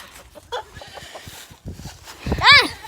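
Chickens in a chicken coop cluck in short, scattered bursts, ending with a loud, close squawk near the end.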